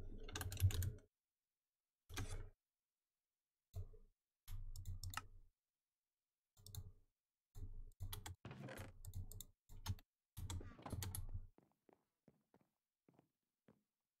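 Short bursts of quick, crisp clicks from a computer keyboard come close and clear, separated by silent pauses, and the last taps trail off faintly.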